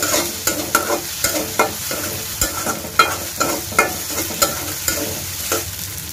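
Ground mustard spice paste, mixed with a little salt, fried in a pan for a sea fish curry. Rhythmic spatula scrapes and taps repeat about twice a second over a low, steady sizzle.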